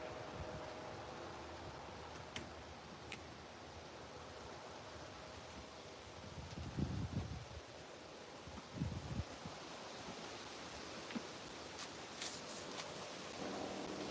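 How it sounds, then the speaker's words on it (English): An east breeze blows outdoors at an auto body repair spot, a steady broadband rush with a couple of low gusts buffeting the microphone midway, no voices. "I want it to be out here in the breeze. This is a nice down east wind."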